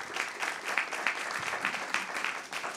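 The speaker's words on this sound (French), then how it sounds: "Vous pouvez les applaudir." Audience applauding the panelists at the close of a round-table discussion on commercial real estate and biodiversity, a sustained, even wash of many hands at moderate volume, no voices over it.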